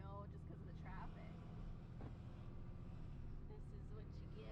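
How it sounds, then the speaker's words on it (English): Beach traffic on a Sunday, a continuous low rumble of cars and engines idling and passing while people chat nearby. "This is what you get when you stay at the beach. On a Sunday. Lots of traffic."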